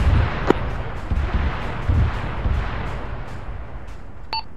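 Explosions in a military video game sound as a series of dull, distant booming thumps over a constant low rumble, ending with a faint sharp crack.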